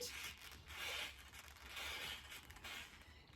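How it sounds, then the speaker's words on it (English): A massage ball rolls under the instep of a foot during seated Pilates footwork, giving a faint, soft rubbing swish that swells and fades in slow repeated strokes. "Just a little bit of pressure there under the instep and have a good old rub around there with the ball and roll around."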